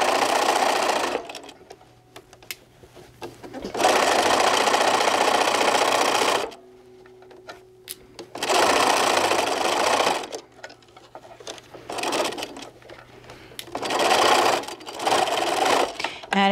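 Sewing machine stitching the casing of a drawstring bag, running in steady loud bursts of several seconds each, stopping and restarting repeatedly with brief quiet pauses between runs.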